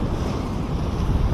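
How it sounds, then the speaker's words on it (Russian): Steady rolling wash of sea waves with a heavy low rumble and gusty wind buffeting the microphone throughout. "Море тут качает."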